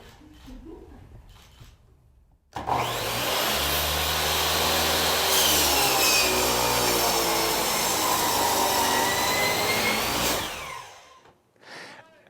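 A power tool roars to life and grinds steadily for several seconds at high volume while shredding paper documents, then winds down and cuts off, with brief sounds before and after.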